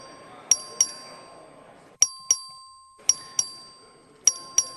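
A voting bell in the Texas House chamber is rung by the clerk in paired metallic dings, four quick double strikes each ringing out briefly, fairly distinct over a quiet room.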